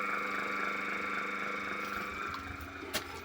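A homemade air compressor built from a refrigerator motor runs steadily after switching on, a close, continuous mechanical hum with a faint clack near the end.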